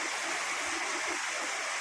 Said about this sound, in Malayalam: പുതിയൊരു വെള്ളച്ചാട്ടം